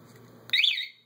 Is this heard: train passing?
no